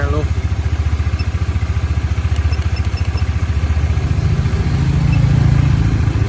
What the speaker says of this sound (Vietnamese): Các bạn nổ máy lên